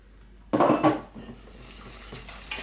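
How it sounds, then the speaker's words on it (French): A whisk scrapes and clinks against a bowl, beating a chilled cream mixture for a chocolate Bavarian cake; a burst of brisk strokes and clatter, then quieter steady mixing, close and with no voices. "on fouette, on mélange comme il faut."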